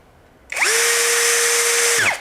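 An STR STR-712 impact drill spins up sharply, runs at a loud steady whine for about a second and a half, then winds down, close by and alone.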